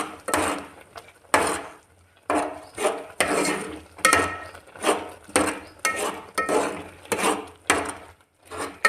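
A spoon stirs chili powder into red lentil curry in a pot, scraping and knocking against the metal in repeated rhythmic strokes with short pauses, close and fairly loud, with no speech.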